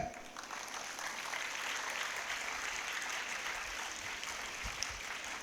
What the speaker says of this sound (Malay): Satu tepukan untuk ustaz di belakang.